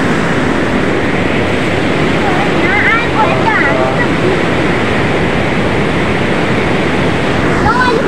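The swollen Narayani river rushes past in a loud, unbroken roar of churning floodwater heard up close, with faint voices now and then under the noise.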